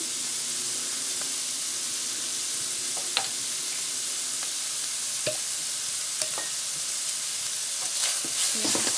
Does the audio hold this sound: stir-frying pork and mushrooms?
yes